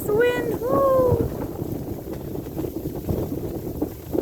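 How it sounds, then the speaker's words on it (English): Gusty wind buffets an outdoor microphone on a woodland walk, a steady broadband rumble that continues under a briefly heard voice. "I don't know if you can hear me now with this wind"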